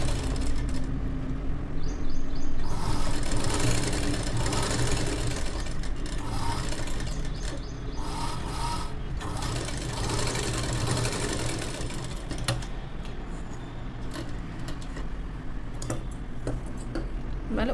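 A sewing machine topstitches blouse fabric with a continuous rapid mechanical chatter, close and loud, with occasional brief pauses and clicks.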